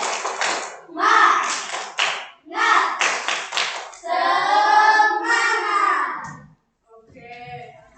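A classroom of children doing a rhythmic Indonesian clapping chant, the tepuk semangat, led by a teacher: bursts of hand claps mixed with the voices of children chanting loudly in unison, ending in a brief pause and softer talk.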